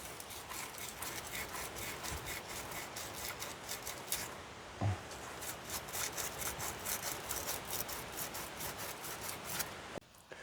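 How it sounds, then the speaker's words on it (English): A wire brush scrubs the starter connections on a 1996 Ford F-250 with a 7.3 Powerstroke diesel, giving steady, close, rapid scratchy rubbing that continues almost without a break, with one brief bump partway through. "Now's a good time to clean these starter connections up before we reinstall them."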